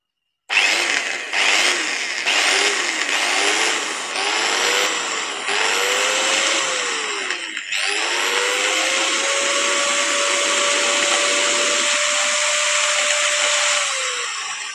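An angle grinder with a gear problem whines loudly in several short bursts as it spins up and down, then settles into a steady high-pitched run for several seconds, close by with no talking.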